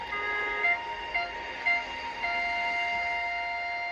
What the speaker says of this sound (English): A sturdy diesel was coming round the mountain